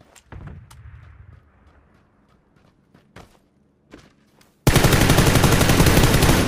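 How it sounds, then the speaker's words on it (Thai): In PUBG, a few faint taps and thuds sit in near silence until a sudden burst of loud, rapid automatic gunfire erupts and keeps hammering without a break to the end. "ไม่ได้เจออะไรนะกูยิงสแปม"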